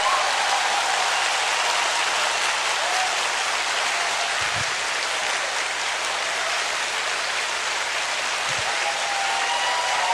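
An audience clapping as hard as it can in a ten-second contest at a success seminar, a dense continuous roar of many hands, loud and even throughout, with a couple of low thumps.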